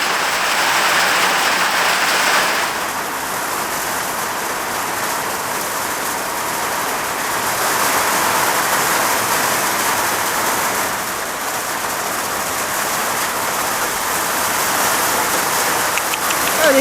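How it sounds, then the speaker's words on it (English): Steady hail and rain drumming outside a homebuilt pioneer hut, a dense, loud hiss that holds without a break, with no voices. "Looks like a little bit of hail's coming in."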